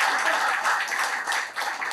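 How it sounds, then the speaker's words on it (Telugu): An audience claps loudly at a talk on ancient Indian history, a dense, continuous patter of many hands with small swells and one brief dip, and no voices over it. "గట్టిగా చప్పట్లు కొట్టాలి"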